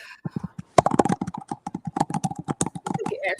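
Rapid, uneven clacking of keys on a computer keyboard, loud and close, with bursts of keystrokes tapping out in quick succession and short gaps between runs.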